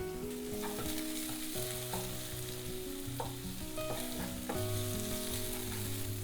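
Green chillies and tomatoes fry for egg bhurji in a wok, giving a steady loud sizzle with a few soft clinks from stirring, and no talking.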